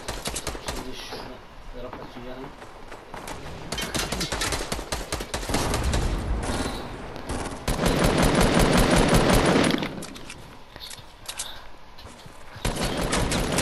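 Rapid gunfire bursts in a Fortnite match, rattling automatic volleys that swell and fade in several loud stretches, with quieter gaps between, close and harsh.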